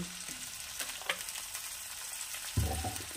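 Water splashes into a hot pan of Bengali-style pabda fish curry, with quiet frying and stirring sounds followed by a sudden louder sizzling burst near the end.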